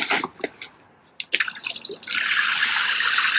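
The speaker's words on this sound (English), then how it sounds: "I use this pump here to pump water to water the garden with." A water pump draws from a rain catchment system to water a garden; intermittent drips and trickles give way after about two seconds to a steady, loud rush of flowing water.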